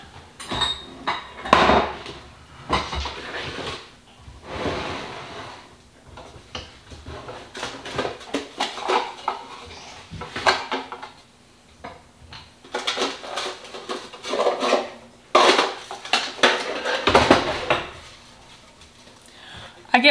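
Metal loaf pans clatter and clink repeatedly as they are handled in a home kitchen while making sourdough bread, with irregular bursts of knocking and scraping and a few brief quiet gaps.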